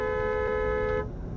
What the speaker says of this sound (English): Tesla cut me off, and then I honked at him. He honked at me, and we just all honking back at each other.